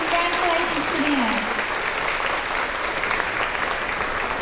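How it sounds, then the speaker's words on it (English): Audience applause at a second grade promotion ceremony, continuous dense clapping with a voice speaking over it at the start. "Let's give them a round of applause"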